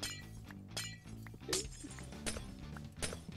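Glass blocks break in the Minecraft video game, a handful of sharp shattering cracks spaced irregularly over soft steady game background tones.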